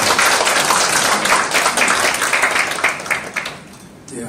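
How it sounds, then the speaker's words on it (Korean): An indoor audience at a formal heritage certificate ceremony applauds loudly and steadily, the clapping easing off toward the end. "뜨거운 박수로 환영합니다"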